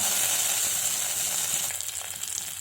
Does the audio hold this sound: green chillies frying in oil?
yes